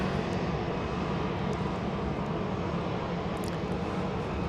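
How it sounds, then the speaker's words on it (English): Dassault Falcon 50 business jet landing at Dallas Love Field, a steady broadband engine roar heard at a distance with no talk, holding level throughout. "There's a Dassault Falcon 50 coming in from Los Angeles, California."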